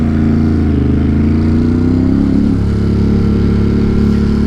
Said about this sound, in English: This bike just makes all sorts of noises.